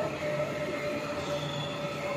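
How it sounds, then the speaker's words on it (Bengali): A Kolkata metro train at Park Street station rumbles steadily with a sustained high wheel squeal over a constant low roar, close and loud with no voices. "মেট্রো থেকে নামলাম পার্ক স্ট্রিট।"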